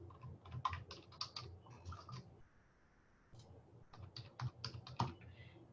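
Computer keyboard typing in bursts of rapid keystrokes as journal entries go in, close and clear, with a short pause in the middle before the typing resumes.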